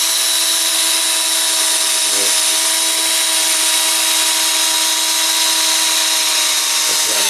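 A power drill spins Corgi Toys die-cast wheels for polishing with Brasso, giving a steady, close, high-pitched whine with a faint rubbing texture and two brief dips in the motor sound.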